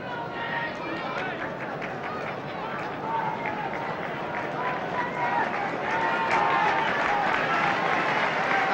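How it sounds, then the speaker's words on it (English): Football stadium crowd at a Leicester City home match in 1971–72 applauds as a player goes off, a broad roar of clapping and crowd noise that swells toward the end, with talk over it. "And the applause is because Dennis Law is going off"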